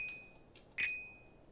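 A single bright bicycle bell ding rings out in Untitled Goose Game, sharp and close, with its metallic tone fading over a moment, preceded by a couple of faint ticks in a quiet room.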